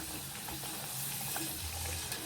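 Potatoes frying in oil for a crispy single fry give a steady, close hiss of bubbling sizzle that holds evenly throughout, with faint clinks of a utensil and no voices.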